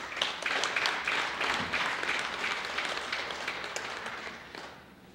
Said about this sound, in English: if everyone would just join me in giving them a round of applause as they come up to the podium